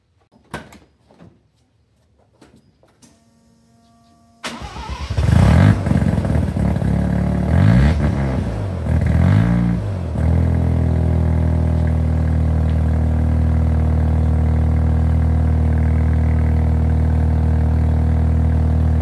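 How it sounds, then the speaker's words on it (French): A car engine starts after a few clicks and knocks, then idles loudly with a leaking exhaust at the rear, a rough, steady throaty rumble with brief revs early on, close up and without speech. "je vais vous faire écouter un peu le pot maintenant et vous allez vite comprendre pourquoi c'est vraiment nécessaire de faire quelque chose"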